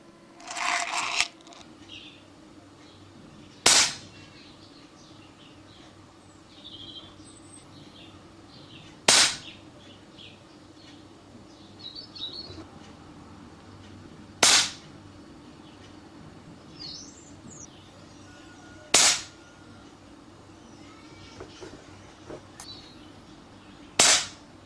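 An air rifle fires pellets in a penetration test with Super Hollow Point and Bisley Magnum pellets: five sharp, loud single shots spaced several seconds apart, with quiet outdoor background and faint birds between them.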